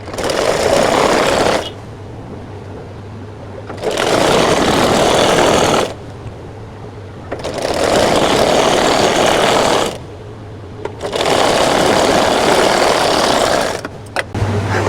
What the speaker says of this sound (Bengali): বালিশের মুখের কাভারের উপরের অংশ সেলাই দিয়ে নেওয়া আমাদের হয়ে গেছে